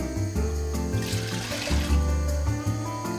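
Cold water poured into a pressure cooker holding washed rajma beans, a continuous trickling, splashing stream with a shifting gurgle, near and fairly loud, with no talk.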